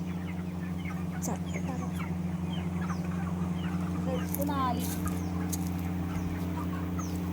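Chickens cluck softly in short scattered calls inside a coop, heard faintly over a steady mechanical hum.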